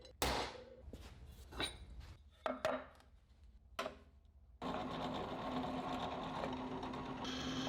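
Steel drill bit boring oversized bolt holes through scrap metal for a vise stand, a few short grinding bursts followed by a steady, sustained cutting whine close by.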